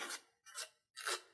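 Three quick scratchy sanding strokes in a steady back-and-forth rhythm, close up and moderately quiet.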